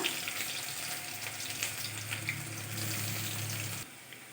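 Chopped garlic and ginger frying in a pan with dried red chilli, cardamom, cinnamon and nigella seeds, a continuous close sizzle that drops away abruptly near the end.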